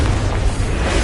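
Confringo fire spell in Hogwarts Legacy bursting in a loud, dense explosive boom that fills the whole second with broad rumbling noise, near and forceful.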